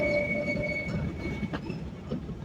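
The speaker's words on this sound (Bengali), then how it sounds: "মাওয়া রেল স্টেশনে কিন্তু আউটারে আমাদের সুন্দরবন এক্সপ্রেস ট্রেন দাঁড়িয়ে গেল" The Sundarban Express train halts on the outer line at Mawa rail station, with a steady rumble and a sustained metallic wheel squeal fading out over a couple of seconds. No one talks.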